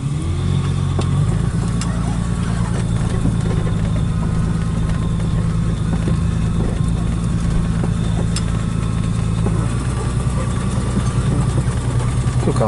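A 1974 Dodge Coronado with an automatic transmission rolls slowly over uneven grass, its engine running steady and close at low idle throughout, with a brief rise in pitch near the start and end.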